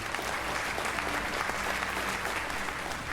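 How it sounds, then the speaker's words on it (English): A school audience at an investiture and awards ceremony claps steadily for a student award winner, a dense, even wash of many hands with no break across the whole stretch. "Clap harder."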